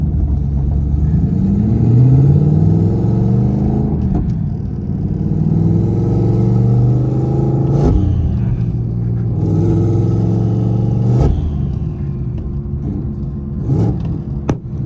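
BMW F80 M3 engine with front mount intakes, loud and close, revving up through the gears with rising pitch sweeps broken by several sharp shift cracks and pops.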